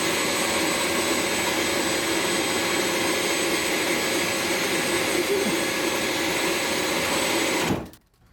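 A 24-volt converted Power Wheels Jeep motor runs with a steady loud whine and hum for about eight seconds, then cuts off abruptly.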